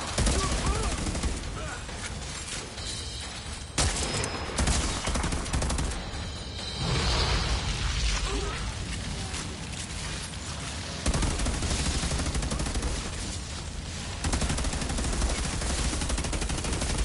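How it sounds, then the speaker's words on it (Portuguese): Heavy, continuous gunfire in the co-op shooter Outriders on PS5, dense bursts of automatic fire and shots coming from all sides, loud and unbroken throughout with no pauses. "Tô tomando tiro de todos os lados"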